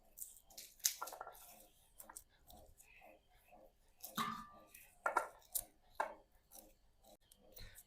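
Garlic cloves chopped with a knife for mango pickle in a home kitchen, soft irregular taps and crunches on a board, fairly quiet with faint background noise.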